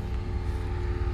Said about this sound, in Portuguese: M6 Gran Coupé indo embora.